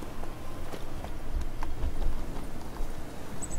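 Horse hooves clip-clop in The Witcher 3 as the horse moves through a village, a steady run of close, loud hoofbeats over a busy game background, with no talking.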